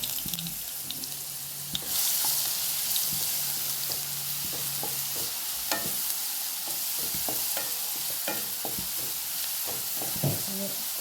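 Green chillies sautéing and being stirred in a pan for a kudampuli prawn curry, a steady bright sizzle with scattered clinks and scrapes of a spoon against the pan, close and continuous with no talk.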